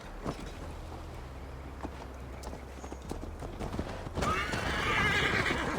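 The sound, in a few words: horse hooves and neighing while mounting up to ride, Assassin's Creed Valhalla video game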